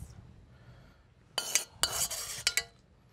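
A spoon scrapes and clinks against a dish while fresh pasta is mixed, a few sharp metallic strokes in quick succession after a quiet start, close and alone.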